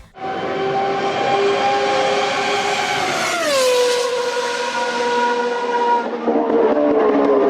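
Ferrari 641 Formula 1 car from the 1990 season with a 3.5-litre V12 engine, a loud, continuous high-pitched engine wail that rises and then drops in pitch mid-way, as in a pass or gear change, with no talk.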